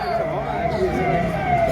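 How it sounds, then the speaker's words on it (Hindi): An ambulance siren wails past on a road, its wavering tone sounding steadily through the stretch beneath someone speaking loudly, as if addressing a crowd. "एम्बुलेंस को थोड़ा बढ़िया से रास्ता दे दीजिएगा।"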